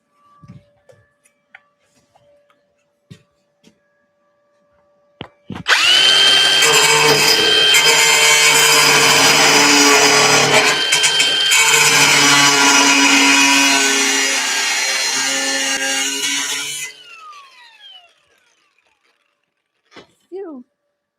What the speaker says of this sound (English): Get the grinder.